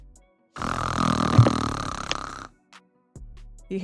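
A voice imitates loud snoring from a sleeping college-age young man during a Vampire: The Masquerade tabletop role-play session: one long, rasping, guttural snore of about two seconds, close and loud, followed by quieter vocal noises.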